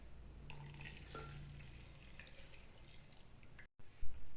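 Water trickles and drips into onion and yogurt being readied for grinding for a desi chicken shorba, faint and close, with a soft clatter near the end.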